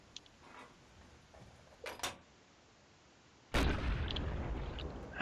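Tank gunfire in the Darkest Hour World War II shooter game: a couple of sharp distant cracks, then one loud heavy blast that rolls into a long sustained rumbling tail, no talk.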